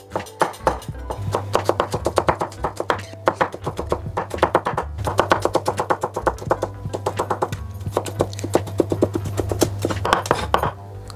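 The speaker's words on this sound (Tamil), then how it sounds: "ஒரு ஆறு உள்ளியை சுத்தம் செய்து வச்சுக்கேன் அதையும் நல்லா சின்னதாக கட் பண்ணுறோம்" A knife chops six garlic cloves finely on a board in a kitchen, making rapid, dense rhythmic taps in bursts with short pauses, alongside a steady low hum.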